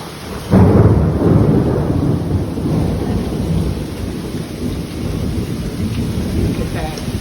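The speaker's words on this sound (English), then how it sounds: "It's hitting the window so hard." A hailstorm with thunder and hail pounding against a window: a heavy, steady roar of hard impacts and rumbling thunder that swells early and continues dense and loud throughout.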